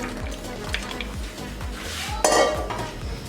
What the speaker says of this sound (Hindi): इसमें चने ऐड कर देंगे